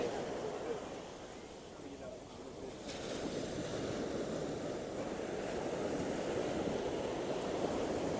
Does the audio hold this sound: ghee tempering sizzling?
no